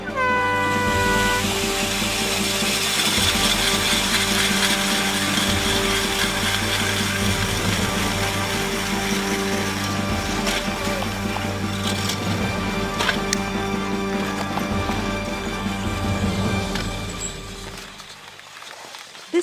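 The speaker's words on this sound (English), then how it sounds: "causing anglers to hand drill nearly hundreds of holes through extremely thick ice" Hand augers drilling holes through extremely thick ice during an ice fishing competition in Michigan, a sustained grinding, scraping drone with rhythmic pulsing from several nearby augers that fades out at the end.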